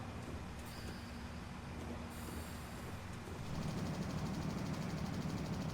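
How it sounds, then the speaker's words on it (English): A train engine working hard in a train-simulator game on a suburban Glasgow route, heard as a steady, close rumbling drone that swells louder partway through, with no talking. "You hear the train doing some work there."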